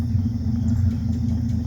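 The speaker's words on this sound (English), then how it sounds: "But it's just a slant 6 with dual flow masters." A 1962 Dodge Lancer GT with a slant six engine and dual Flowmaster mufflers idles close by, giving a deep, steady, throbbing rumble with no other sounds.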